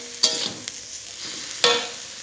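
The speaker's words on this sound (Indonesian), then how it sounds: "Dan sedikit saus tiram. Kita aduk kembali sampai rata." A bean sprout and tofu stir-fry with oyster sauce is stirred in a pan, giving two sharp scraping strokes over a soft, steady sizzle, close and moderately loud.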